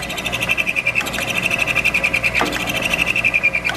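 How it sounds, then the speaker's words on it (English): A milling machine spindle is pulsed on and off, giving a close rapid rhythmic whirring pulse with a steady high mechanical whine, alone without talk. "What we used to do is pulse the spindle on and off like this"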